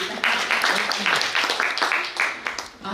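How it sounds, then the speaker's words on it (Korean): An audience at a club membership event claps steadily for about three seconds, the applause dense and close and fading slightly toward the end. "박수 좀 부탁드리겠습니다."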